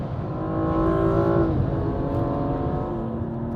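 A BMW M235i roars past at high speed on the Nürburgring, a loud, sustained engine note rising and shifting pitch as it sweeps by close at hand, with other track noise underneath.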